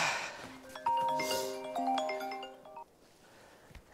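A phone rings with a bright, multi-tone electronic melody for about three seconds, then stops, leaving quiet room noise.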